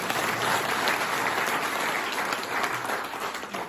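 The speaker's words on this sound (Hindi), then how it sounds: "ताली बजाओ" An audience at a motivational talk breaks into sustained, dense applause, a steady roar of many hands clapping close together for nearly four seconds, easing slightly toward the end.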